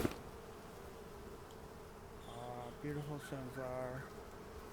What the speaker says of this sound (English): And yes, that's bees you hear. This is my beehive.